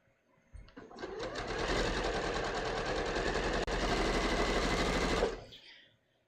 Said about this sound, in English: We're sewing the dress together, the life size bias dress